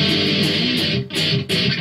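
Distorted electric guitar riff tuned to drop D, the intro to a song, loud and sustained with a couple of brief choppy breaks between chords, played alone without voices.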